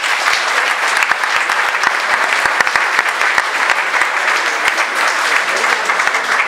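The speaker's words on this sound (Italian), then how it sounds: "Gli facciamo un applauso a tutti e due" A crowd at a Capuchin friars' missionary gathering in Recanati claps steadily for two departing friars, a dense, loud, continuous round of applause with no voices over it.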